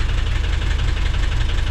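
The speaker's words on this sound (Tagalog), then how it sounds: "Pero sobrang lagapak na po yung makina nung napaandar nila." A flood-damaged Hyundai H100 van engine runs rough, a loud, steady, close idle with a rapid, regular knocking pulse throughout and no voices.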